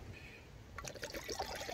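Water is poured into the pot of an OEX Heiro camping stove, a soft close trickle and splash that starts partway in over faint background hiss.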